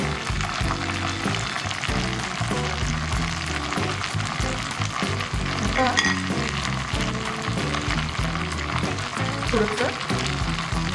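Wheat-flour ghevar batter poured into hot oil gives off a constant, dense frying hiss and bubbling, heard throughout under steady background music.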